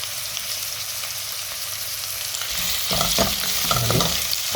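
Garlic frying in a hot pan for a simple home-cooked dish, a steady sizzle that swells louder partway through as it is stirred, with scraping and clattering near the end.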